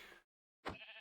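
Minecraft sheep giving two short bleats separated by a brief silence, clear and close.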